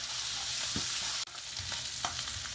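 Cumin seeds sizzle in hot oil in a pot for tomato chicken masala, a steady bright crackle with stirring scrapes and a brief dip in the middle.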